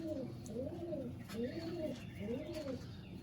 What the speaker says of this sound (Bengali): খুব সুন্দর, খুব সুন্দর পায়রা